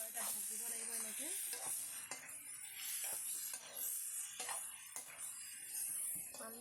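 Chicken with turmeric and salt frying in a pan, a continuous close sizzle broken by repeated scraping stirs of a spatula against the pan, fairly quiet.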